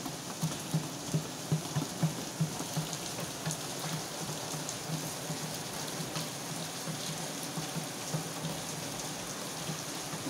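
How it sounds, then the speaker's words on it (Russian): Heavy rain falls steadily on an autumn day, a dense even hiss with scattered patter of drops, moderately soft and alone with no voices. "Дождь сильный."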